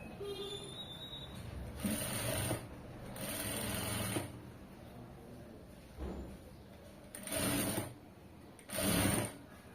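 Sewing machine stitching a side joint in fabric: several short bursts of fast mechanical whirring, each lasting a second or two, separated by pauses with a quieter motor hum in between.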